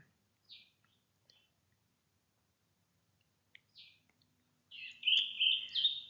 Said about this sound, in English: I'm going to play some quiet bird song in the background